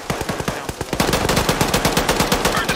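Automatic gunfire in the military shooter Arma during squad training, a steady rapid stream of close, loud shots in a regular rhythm, with other weapons cracking underneath and no talk.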